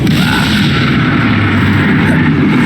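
A roaring burst of fire from the Incendio spell in Hogwarts Legacy, a loud, sustained whooshing blaze with low rumble, heard alone without voices.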